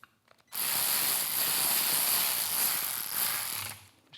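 A ratchet driving T25 bolts into motorcycle handlebar riser covers, a close, continuous rapid clicking of the pawl that runs for about three seconds before stopping.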